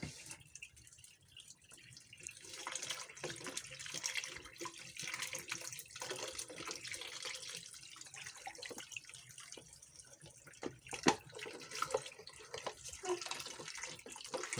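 Hands or an item washed under a running tap, with a steady stream of water splashing into a basin and occasional drips and clatter throughout.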